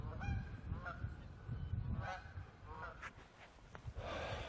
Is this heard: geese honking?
yes